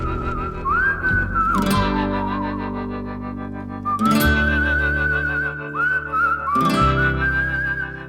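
A clear whistled melody rises and glides over sustained orchestral chords in film music, loud and echoing, with pauses between the phrases.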